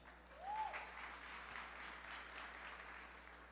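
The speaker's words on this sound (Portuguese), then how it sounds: "Salve de palmas para a Ana, gente." Steady applause from an audience, a continuous patter of clapping throughout, swelling briefly near the start.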